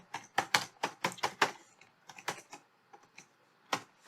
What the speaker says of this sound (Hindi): मैं जल्दी जल्दी यहाँ कोड आपको टाइप करता हूँ